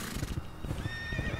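Horse neighs and hooves clop in a video game set in a Somerset village in England, a whinny rising over a steady clip-clop of hooves close by.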